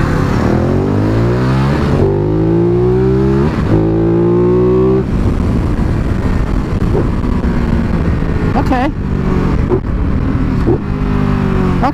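A Ducati Multistrada 1200 Enduro motorcycle accelerates hard nearby, its engine revving up through several gears with rising pitch sweeps broken by brief shift dips, loud and close throughout.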